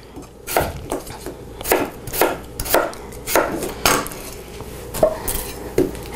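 A knife chopping a potato on a board, about a dozen crisp, close thuds in an uneven steady rhythm, with no talking over them.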